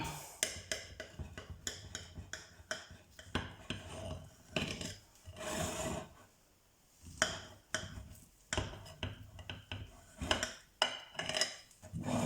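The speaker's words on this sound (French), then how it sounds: "je vais couper une part pour vous montrer ce que ça donne à l'intérieur" Knife and fork clinking and scraping on a plate while a slice of homemade bread pudding with apples and raisins is cut, a run of sharp close taps and scrapes with brief pauses.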